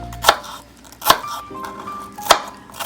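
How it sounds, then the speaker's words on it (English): A knife chops through half a yellow onion on a cutting board, three sharp, separate thuds spaced about a second apart, close and clear with faint kitchen hum between strikes. "I'm going to chop this up in bite-sized pieces to be sauteed with our fresh spinach"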